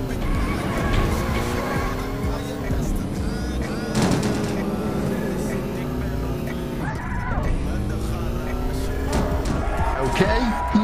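Car driving and skidding in the video game Payback 2: a loud, continuous engine roar with pitch swooping through acceleration and braking, plus squealing tire skids scattered across the run.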